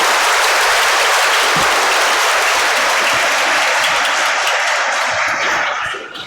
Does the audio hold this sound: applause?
yes